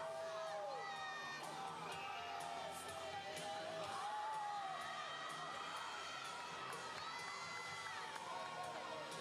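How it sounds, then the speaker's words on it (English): A crowd at a collegiate powerlifting nationals cheers and shouts in encouragement for a lifter attempting 651 pounds, a loud, continuous wash of whoops and yells across the venue. "Give him a round of applause. We got to get behind him."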